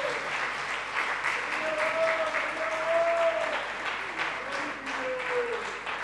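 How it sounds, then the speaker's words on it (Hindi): A church congregation at a Christian blessing meeting bursts into loud, sustained applause lasting several seconds, with cheering voices and shouts rising over the dense clapping. "एक बार जोरदार ताली हो जाए यीशु मसीह के लिए"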